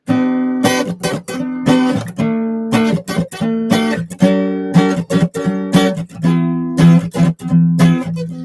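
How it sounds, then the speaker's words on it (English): An acoustic guitar plays along with a song, strumming chords in a bouncy, syncopated rhythm with brief choked gaps between the strokes. It is close and clear, with no voices. "so I used to play just along with like acoustic guitar"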